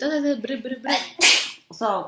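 A single sharp sneeze bursts out in the middle of people talking, loud and close, with speech before and after.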